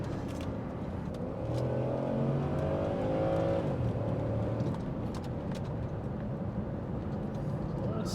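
A 1997 Ford Taurus SHO engine accelerates up through the revs, its tone climbing and shifting, with a person briefly talking over the rising engine noise.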